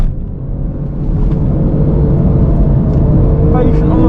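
A Porsche 997 Carrera GTS on a race track holds a steady, loud engine drone with deep rumble that swells slightly as throttle is fed in, heard close from inside the car.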